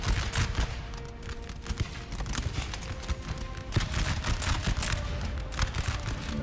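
Dense musket volleys crackle nonstop from a Napoleonic battlefield in Napoleon: Total War, loud, overlapping shots with no clear gaps, rolling from near and far.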